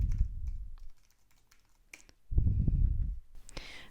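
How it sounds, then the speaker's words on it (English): Quick bursts of clicky keystrokes on a computer keyboard, typed in two short runs separated by a near-silent pause, close and fairly soft. "if we type in Retford Council"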